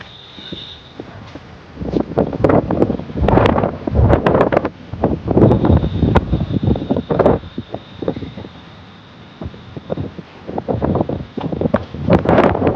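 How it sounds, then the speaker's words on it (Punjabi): Strong wind buffets the microphone outdoors in Punjab, coming in repeated loud gusts and rumbling bursts that rise and fall irregularly, with a faint steady tone in the background and no clear speech. "ਜਦੋਂ ਤੇਜ਼ ਹਵਾ ਚੱਲਦੀ ਹੈ"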